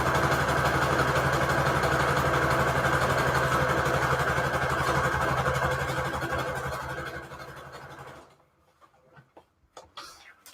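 A sewing machine stitches through scrap paper pages, a steady loud motor whir running continuously for about eight seconds, then stopping abruptly and leaving faint scattered clicks and handling noises.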